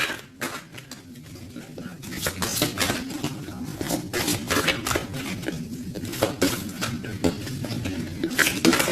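Tarot cards being shuffled by hand make a busy run of quick papery slaps and clicking flutters in irregular bursts, close and fairly loud throughout.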